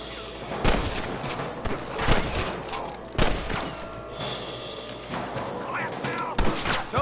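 Gunfire in the Red Dead Redemption western game: several loud, sharp shots, irregularly spaced across the clip, each ringing out and fading, with game voices speaking between them.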